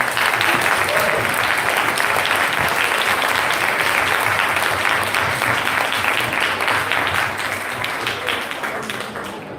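An audience at a centenary celebration in Scotland gives a big round of applause for student performers, a dense, loud, sustained clapping that fills nearly ten seconds and tapers slightly toward the end.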